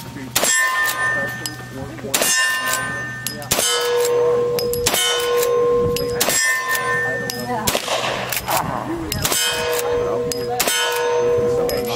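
Pistol double-tap shots ring off steel targets at a shooting match, with loud, sharp clangs arriving in quick pairs and repeating every second or two across the stretch, each metallic hit leaving a brief ringing tail.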